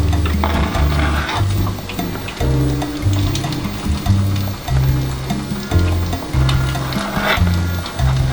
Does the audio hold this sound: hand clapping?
no